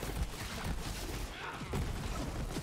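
Shock-element weapon fire in the Borderlands 3 video game, a dense, fairly faint run of rapid crackling shots and zaps over a steady rumble, with no voices.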